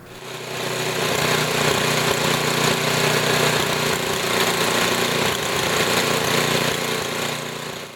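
Vintage Tecumseh small engine running steadily after carburetor tuning, a loud, even, buzzing drone held at constant speed throughout, alone without voices.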